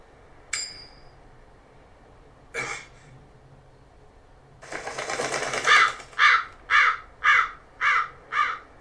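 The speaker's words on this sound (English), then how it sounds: "That crow just flew off with the coin." A crow in the video game Tales of Berseria gives a short call, then a rustling flurry as it takes off, followed by a string of six loud, evenly spaced caws close by.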